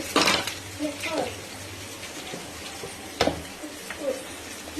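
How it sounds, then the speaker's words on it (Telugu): Onions fry lightly in a pan with a soft background sizzle, punctuated by a few sharp clinks of a spoon against the pan. "ఆనియన్స్ మనకేం పెద్దగా కలర్ రానవసరం లేదు, జస్ట్ లైట్గా ఇలా వేగితే సరిపోతుంది"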